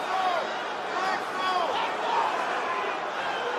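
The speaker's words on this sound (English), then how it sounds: "crowd's insane right now" A roaring arena crowd at a UFC fight, with a steady dense wash of cheering and babble that holds loud across the whole stretch, whistles or shouts rising above it in places.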